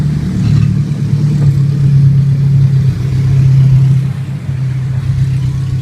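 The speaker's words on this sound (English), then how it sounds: "There's that car from the hotel." Car engine rumbling outside a hotel, a steady low drone that swells slightly as it revs and stays loud and close throughout, with no talking.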